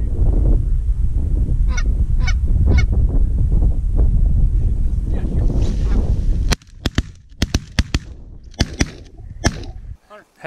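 Canada geese honk loudly and repeatedly on a goose hunt, a dense overlapping chorus that stops abruptly and gives way to a series of sharp, scattered shotgun blasts.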